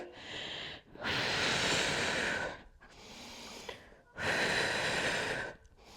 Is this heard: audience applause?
no